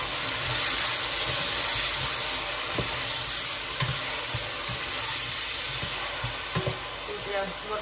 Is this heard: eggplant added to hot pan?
yes